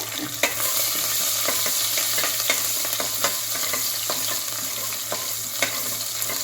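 Small shallots and curry leaves frying in oil for a country-chicken nattukozhi kulambu; a loud, even sizzle fills the clip, dotted with small crackling pops and stirring scrapes, over a low steady hum, with no talk.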